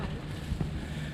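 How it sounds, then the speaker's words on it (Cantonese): Wind gusting steadily across an exposed high spot outdoors, a short, continuous low rumble of air buffeting the microphone. "嗰度高有風"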